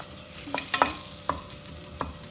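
Onions and peppers are sautéed in a pan, a soft sizzle punctuated by several distinct spatula scrapes and knocks against the pan, close and clear with no talking.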